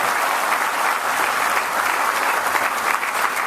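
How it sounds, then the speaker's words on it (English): Audience applause at the Farm Science Review, a full, even wash of many hands clapping at once, sustained and fairly loud with no voices over it. "So give him another round of applause for Archie"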